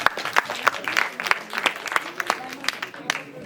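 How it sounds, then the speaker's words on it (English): An audience at an international debate competition final claps in a brief burst, individual hand claps distinct and fairly close, with a voice faintly heard under the clapping. "Give a huge round of applause, everyone."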